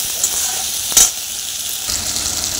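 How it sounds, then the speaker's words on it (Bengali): Chopped tomato sizzling in hot oil in a pan, a steady bright hiss with one sharp crackle burst as it is stirred, close and alone with no talk. "টমেটোটা ভালো করে ভাজতে হবে"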